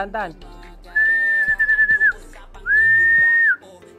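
A person whistles to a pigeon, two long, steady high notes, the first with a brief flutter, separated by a short pause; loud and close.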